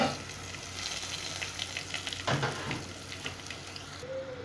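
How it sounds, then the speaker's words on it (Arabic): Seasoned fish fries in hot oil with a steady crackling sizzle, close by and fairly quiet, with a few sharper pops and a brief clatter partway through. "هنا يا جماعه حطينا السمك يتقلى في الزيت اهو بعد ما تبلناه"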